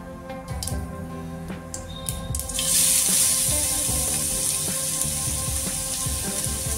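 Grated carrot dropped into two spoons of hot oil with cumin and mustard seeds, a dense sizzling hiss that flares up after a few light clatters and keeps frying steadily.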